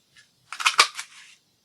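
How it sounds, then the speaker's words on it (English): Scissors snip through scrap material to cut small circles, a short burst of crisp, close cutting clicks and rustles lasting under a second, with a faint tick just before it and no talking. "we'll need to cut 2 1-inch circles."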